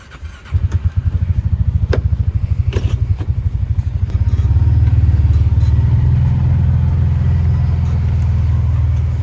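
Can-Am off-road vehicle engine rumbling loud and close while riding, a pulsing, throbbing idle-like beat in the first seconds that swells into a steady, heavier drone as it accelerates.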